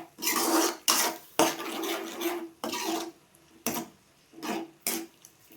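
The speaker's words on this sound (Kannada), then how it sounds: "ಸಾಸ್ ರೆಡಿ ಮಾಡ್ಕೊಂಡಿದ್ವಲ್ಲ ಮಸಾಲ ಸಾಸು ಅದನ್ನು ಹಾಕ್ಕೊಳ್ಳೋಣ ಸ್ವಲ್ಪ ಫ್ರೈ ಮಾಡ್ಕೊಳ್ಳೋಣ" Masala sauce for cabbage Manchurian is fried in a pan, with a spatula making loud, rhythmic rasping scrapes across the metal in repeated strokes, separated by short pauses.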